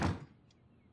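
In a video game, a door opens as the player leaves a room, making a single dull thud-like clunk that fades quickly, followed by near silence.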